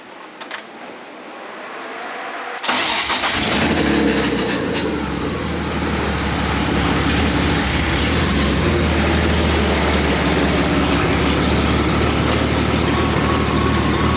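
A BMW E36 car engine catches after a quiet moment and settles into a loud, steady idle with a deep low rumble, close by and unbroken, with no voices.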